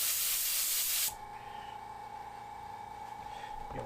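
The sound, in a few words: airbrush spraying paint, SmartJet Pro compressor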